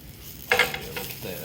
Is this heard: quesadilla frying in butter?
yes